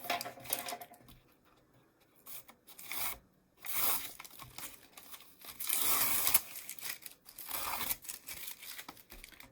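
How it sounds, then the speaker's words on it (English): Masking tape peeled in several crinkly, tearing strips from watercolor painting paper after a wet-into-wet painting exercise, close and moderately quiet, with pauses between pulls and no talking. "Go ahead and take this tape off."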